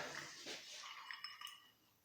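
Three ice cubes clink and rattle against one another in a cup, a few bright, close clinks sounding alone in a quiet room.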